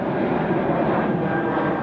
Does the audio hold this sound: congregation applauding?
no